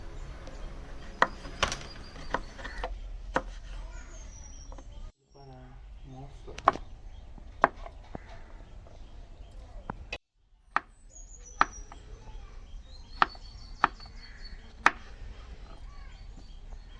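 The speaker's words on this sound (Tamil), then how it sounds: "கழுவிட்டு நல்லா பொடிசாக கட் பண்ணிக்கலாம்." A knife finely chopping mushrooms on a board in a home kitchen, making crisp, fairly regular taps throughout with two brief pauses, close and clear, no talk.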